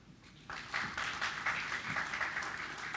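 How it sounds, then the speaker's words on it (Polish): Applause at an award ceremony for the Janusz Kurtyka prizes, starting sparse and quickly swelling into a full, steady round from the audience as a deputy mayor takes the stage. "Proszę o oklaski"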